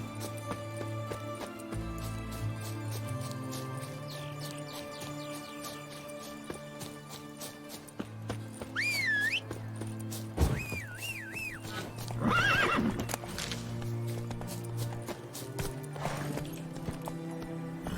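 Geralt's horse Roach galloping in The Witcher 3, with steady hoofbeats under a sustained musical score and several shrill neighs rising above the music midway.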